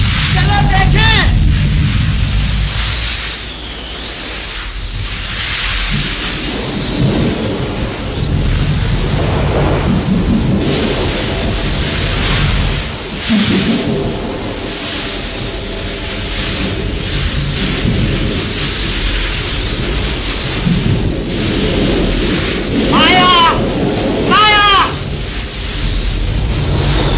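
Heavy thunderstorm with rolling, booming thunder over steady loud rain, the rumbles swelling and fading throughout, while people speak intermittently over the storm, including a voice in a 1937 Hindi film scene.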